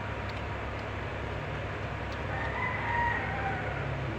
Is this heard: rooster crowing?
yes